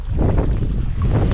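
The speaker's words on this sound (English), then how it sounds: "It's too much wind." Strong wind on a Scottish sea loch coast during a solo kayak paddle, buffeting the microphone in loud, gusty rumbling bursts with a watery wash underneath.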